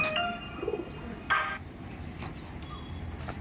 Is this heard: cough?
no